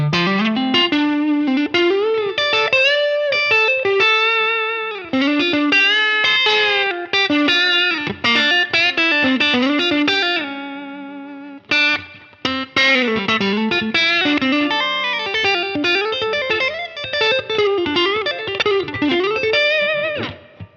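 Distorted electric guitar on the neck pickup with a warm, rounded tone plays a continuous melodic line with chorus and reverb, loud and up close, with brief pauses.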